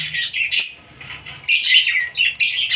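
Two hatchling birds in their nest give high, thin, insistent chirps in repeated close bursts, loud and near, with no other sound.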